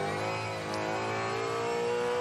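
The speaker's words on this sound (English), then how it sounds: "Gentle fanning of the throttle as Cam tries to find traction against that wet tyre" Supercars race car engine revving on a wet track as the throttle is fanned for traction, a loud, close, sustained high-pitched roar with rising and falling pitch and no voices over it.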